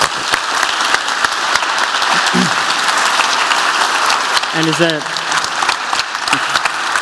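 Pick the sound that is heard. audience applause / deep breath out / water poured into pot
audience applause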